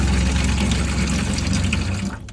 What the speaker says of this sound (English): It's because there's quite a high pressure in the water system, so that kind of noise is quite normal.